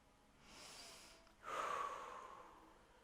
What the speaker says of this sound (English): Take big deep breaths.